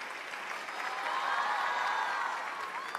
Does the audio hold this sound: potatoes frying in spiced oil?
no